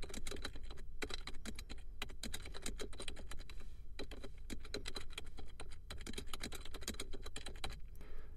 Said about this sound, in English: Let's type in something that's a little more current.